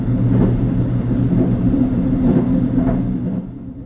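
A Korean mountain railway train pulls out of Cheongnyangni Station, giving a loud, steady low rumble of wheels and carriages that rolls on without a break and eases slightly at the end.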